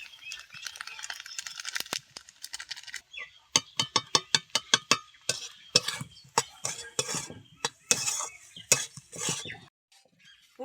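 A spoon scrapes and clinks against a bowl while stirring chopped coriander leaves into a semolina snack mixture, giving a run of sharp, irregular taps and rattles with no talking.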